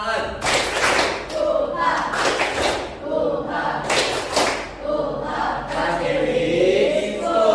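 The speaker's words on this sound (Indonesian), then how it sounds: "Ayo, tepuk semangat." A school class at Pratiwi School performing a rhythmic spirit clap, loud grouped bursts of many hands clapping in a repeating pattern, with the children's voices chanting along between and over the claps.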